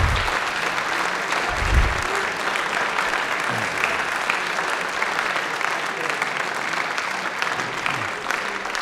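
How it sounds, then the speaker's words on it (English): A crowd claps and cheers for the 1967 state champions of Strasburg High School boys basketball, sustained loud applause filling the room for nearly nine seconds, with a voice briefly audible underneath. "I want everybody out there to put their hands together for the 1967 state champions"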